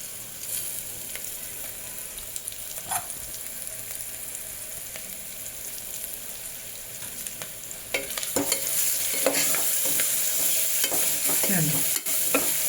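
Vegetable biryani masala with mint leaves frying in oil as it is stirred in a pan, a continuous close sizzle with scraping stirs that grows louder and busier toward the end, with no talking.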